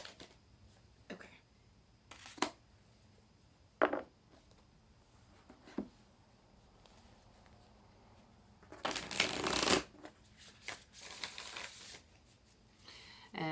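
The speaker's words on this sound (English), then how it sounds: "I'm floundering with my cards" Tarot cards are shuffled and handled at a table in a quiet room, with scattered soft taps and riffles and a louder burst of shuffling near the middle.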